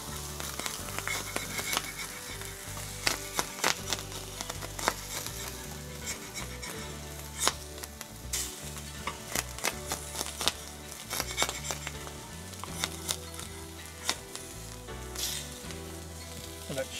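Smash burger patties sizzle steadily on a hot griddle after being flipped, seasoned with salt, pepper and garlic, with scattered scrape and tap sounds over the frying under a low background rhythm.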